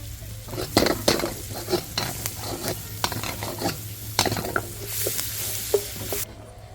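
Shrimp chow mein with green onions and celery gets stir-fried over a chulha fire outdoors in a garden, with a steady close sizzle broken by repeated scraping and clanking strokes of a utensil in the pan.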